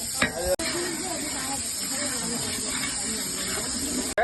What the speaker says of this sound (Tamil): புதினா மல்லி வெங்காயம் பொன்னிறமாக வதங்கட்டும்